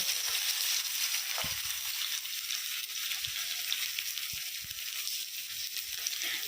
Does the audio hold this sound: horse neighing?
no